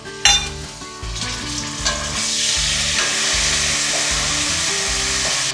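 Spices, dill, turmeric, red and green chilies and curry leaves cook slowly in oil on a low flame, making a loud continuous sizzle over a low rhythmic hum, with one sharp clatter early on.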